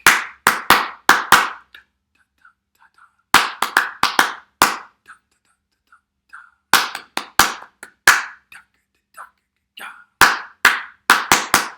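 Rhythmic hand clapping from a film music session, sharp claps in quick patterned groups of about four to six, separated by short pauses, loud and close with no talk over them.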